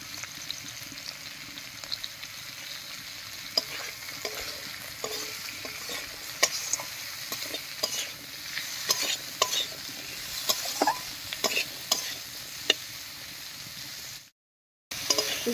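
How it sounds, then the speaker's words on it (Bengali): Carrots, potatoes and peas with salt and turmeric fry in a pan, giving a soft continuous sizzle broken by repeated scraping stirs of a spoon, close and fairly quiet, with no voices. "গাজর, আলু, মটর সবকিছু বেশ একটু ভাজা ভাজা মতো হয়ে গেছে।"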